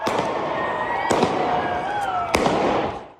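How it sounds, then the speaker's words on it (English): Several gunshots ring out at a downtown No Kings protest, with three hard, close cracks spaced over about three seconds above a continuous noisy background. "He fired several shots."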